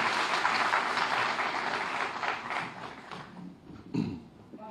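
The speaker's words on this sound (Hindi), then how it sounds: "जोरदार तालियों के साथ माननीय मुख्यमंत्री महोदय का स्वागत कीजिए।" Audience applause welcoming the chief minister at a public event, loud sustained clapping from a crowd that gradually thins and fades, with a brief louder burst near the end.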